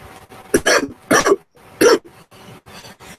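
Three sharp, loud coughs in quick succession from one person nearby, with short quiet gaps between them and no talking.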